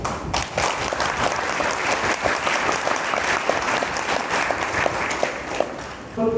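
A crowd at a public gathering applauds a speaker with dense, sustained clapping that stays loud and even from start to finish, with no voices over it.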